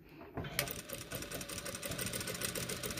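A sewing machine starts up and stitches a thin hijab hem, a close, steady, fast needle rattle that runs continuously after a brief quiet start.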